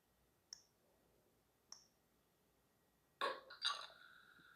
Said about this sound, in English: now you should hear a little champagne popping noise when I send this off